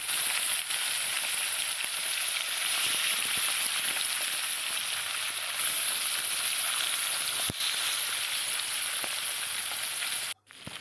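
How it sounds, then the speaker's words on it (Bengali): Snakehead fish frying in oil in a kadai outdoors, a steady, dense sizzle that holds loud and even throughout, then cuts off briefly near the end. "দেখো আমি কড়াইতে মাছগুলো দিয়ে দিয়েছি"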